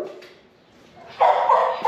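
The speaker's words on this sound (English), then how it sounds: "That's barking like a madman, but he's a sweet boy." A dog at an animal shelter barks in loud repeated bursts close by inside the kennel area, after a few softer yelps at the start.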